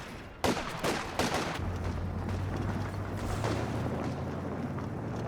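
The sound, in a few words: landmine explosion under vehicle, Company of Heroes 2 video game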